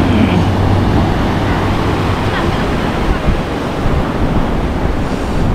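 Sea waves breaking along the Colombo coast in Sri Lanka, a loud continuous wash of surf with wind rumble on the microphone, steady throughout with no distinct voices.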